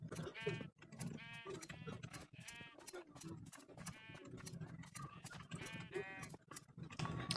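Sheep in Minecraft bleat repeatedly while being sheared on a wool farm, a steady series of close, regular bleats over a soft background hum.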